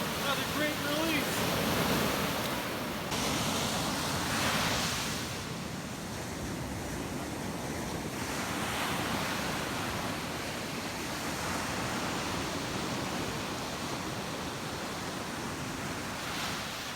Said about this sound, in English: strong sweeping currents and crashing waves right at my feet